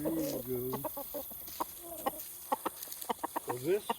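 Feral island-stock chickens cluck in a rapid, uneven series of short calls close by, with a few louder squawks and steady background noise.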